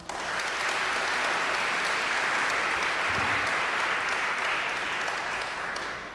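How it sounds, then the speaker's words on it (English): A large audience claps in sustained, uniform applause at a literary event welcoming novelists Jennifer Egan and Julie Otsuka, a loud, continuous patter of many hands lasting around six seconds and tapering slightly at the end. "So let's give them a round of applause."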